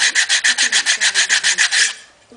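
Wooden part for a model airplane worked with a sanding block: a rapid, regular run of close, gritty scrubbing strokes that stops abruptly, leaving faint shuffling.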